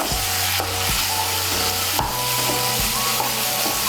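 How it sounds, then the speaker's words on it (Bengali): A spoon works salt and sugar together in a pan for a vegetarian soybean kofta curry, giving continuous scraping and stirring noise with light sizzle throughout, close and steady, no voices. "নুন চিনিটাকে ভালো করে মিশিয়ে নেব।"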